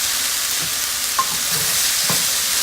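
Shrimp and teriyaki sauce sizzle steadily in a wok, a continuous frying hiss broken by a few short scrapes and stirring knocks, close and alone with no talking.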